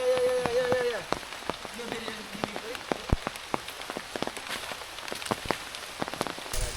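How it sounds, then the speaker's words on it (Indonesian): Rain falls on a mountain trail on Mount Dukono, a steady patter with scattered sharp drips landing on nearby surfaces. Early on the rain is louder, then it settles into a close, continuous drizzle. "hujannya tak kunjung reda"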